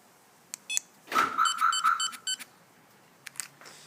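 A quick run of four electronic beeps from a Viper 5704 car alarm, clear against a quiet background, with a few faint clicks before and after.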